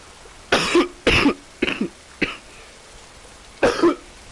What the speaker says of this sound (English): I really, really, really apologize for the coughing